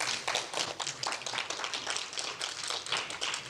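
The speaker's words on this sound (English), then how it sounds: "I want to give them a round of applause" Audience at an afternoon nursing innovation panel applauding the nursing panelists: a dense, steady patter of many hands clapping at moderate volume throughout, with no voices.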